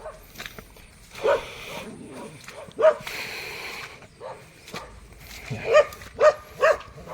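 A dog gives several sharp barks and yips at irregular intervals, fairly close, with quieter rustling between them.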